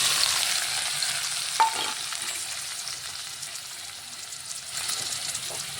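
Chopped onion frying in hot oil in a pot at home gives a steady, close sizzle and hiss that carries on for the full six seconds, with a light clink partway through and no talk.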